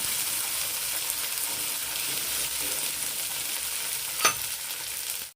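Ginger garlic paste sizzles steadily in hot oil, with a brief scrape of stirring near the end.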